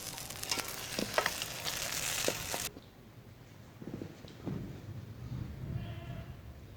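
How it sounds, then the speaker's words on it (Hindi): Suji halwa with raisins and chopped almonds is stirred in a hot pan: soft sizzling and scraping strokes, brighter and busier at first, then quieter, gentler stirring. "अब हम इसमें डालेंगे किशमिश और कटे हुए बादाम और इन्हें मिक्स करेंगे"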